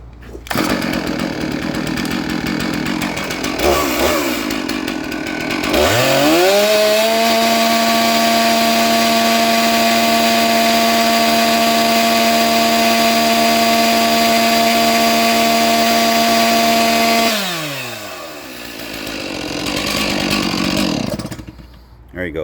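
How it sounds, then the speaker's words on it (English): A Stihl chainsaw, started during morning checks of its bar oil, revs up and holds a loud, steady full-throttle whine for roughly twelve seconds, then drops back to a rough idle. Engine noise begins before the rev-up and continues afterward. "we're going to start the saw back up again, and at full throttle"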